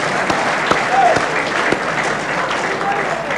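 A room of people at an Essendon football club gathering breaks into sustained applause, dense clapping with a few sharper individual claps, while talk carries faintly underneath.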